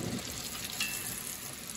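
A striper fish fillet fries in a pan with a steady, close hiss and crackle of oil that holds at an even level throughout, with no voices over it.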